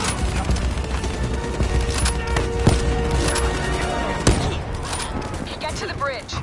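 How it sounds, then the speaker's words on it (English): Heavy automatic gunfire in a combat video game rattles on continuously, loud and dense, with voices and battle chatter mixed underneath. "Give me some cover fire."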